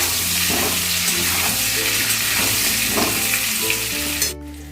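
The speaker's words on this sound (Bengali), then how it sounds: "এবার লাল লাল করে পুরো ভেজে নেবো আলুগুলোকে" Large potato pieces frying in oil for a mutton curry, a loud, dense, continuous sizzle close by with faint stirring, ending abruptly near the finish; no talking.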